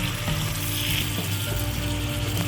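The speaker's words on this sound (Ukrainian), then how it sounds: "всипаємо туди наші обсмажені кабачки" Fried zucchini stirred into stewing tomatoes, onion and carrot in a pan, giving a steady, close sizzle and bubbling frying hiss with some stirring, no voices.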